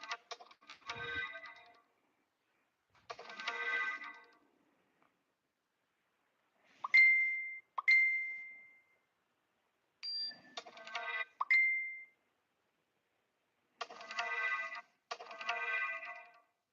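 Repeated phone notification chimes and electronic alert tones sound in short clusters separated by silence, bright and fairly close, with no talking.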